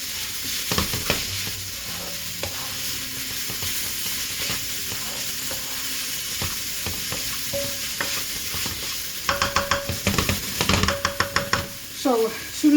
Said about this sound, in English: Everything is in. I'm going to stir this around.